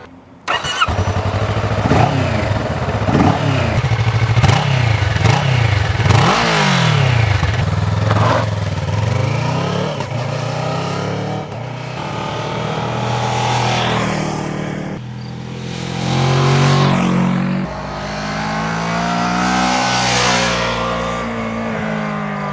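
A Kawasaki ER6N 650cc inline two-cylinder motorcycle starts, then is revved repeatedly, its engine climbing and falling in pitch with several long throttle blips. It sits loud and close, and no one speaks.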